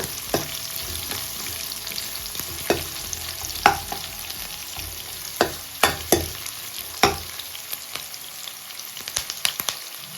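Small onions frying on a medium flame for village-style chicken sambar, a steady close sizzle broken by scattered sharp scrapes and taps of a spoon against the pan, with no voices.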